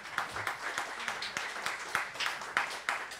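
An audience applauds after a debate speech in a forum chamber, scattered claps ringing out moderately close in an uneven rhythm with occasional louder single claps.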